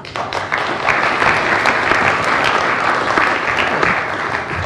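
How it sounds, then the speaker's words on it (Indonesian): Studio audience applause at a televised talk show, a dense sustained burst of clapping from a full crowd that starts abruptly, holds steady and stays loud throughout. "Tapi sebelumnya saya minta aplaus dulu untuk"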